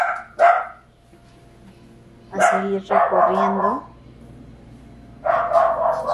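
Small, nervous and scared dogs bark indoors in several short yappy bursts spread across the moment, fairly close, with a person speaking briefly between them.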